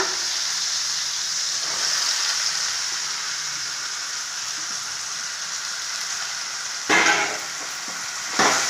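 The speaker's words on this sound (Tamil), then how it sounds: "இப்போ நம்ம தக்காளி பீன்ஸு எல்லா காயுமே சேர்த்து வதக்கலாங்க" Tomato, beans and mixed vegetables sauté in a pan with onions for Schezwan noodles, giving a steady sizzle and fry. Two brief louder scrapes of stirring come near the end, and no one speaks.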